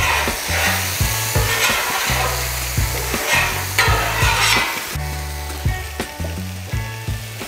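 Burgers frying on a Blackstone griddle: a loud, continuous close sizzle with repeated scraping, clanking spatula strokes in an uneven rhythm over the top.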